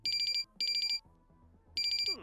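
A phone ringtone in The Sims 4 chimes in three bright, rapid bursts of repeated electronic tones, separated by short gaps filled with soft background music and game sounds.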